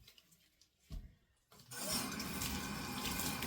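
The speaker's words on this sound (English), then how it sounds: "We're going to rinse this out." Tap water gushes into a sink, rinsing tie-dyed fabric after the bag and rubber bands come off; a few handling knocks lead into a steady, close, continuous rush.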